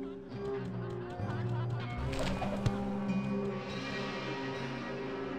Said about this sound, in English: Creepy laughing sound thing